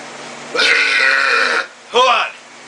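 A man lets out two loud, throaty burps close to the mic, the first long and sustained, the second shorter after a brief pause, in a restaurant kitchen where chicken wings are cooked.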